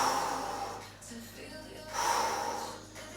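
Strong, breathy exhalations with a sharp intake between them, close to the microphone, as someone holds a plank exercise during a home workout class, with a low steady hum behind.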